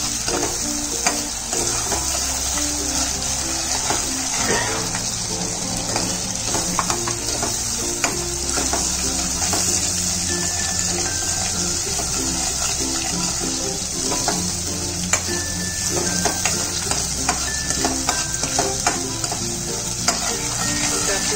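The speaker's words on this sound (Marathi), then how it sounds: "हे मस्त भाजून झालेलं आहे" Ground masala paste is roasted and stirred in a pan for a Koli-style halwa fish curry, giving a steady close sizzle with frequent scraping stir strokes and faint background music throughout, with no talking.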